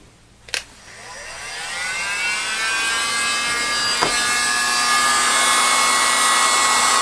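Heat gun with a hot air nozzle preheating a circuit board for surface-mount soldering, with a click as it switches on and then a loud, steady rushing blow that builds and holds.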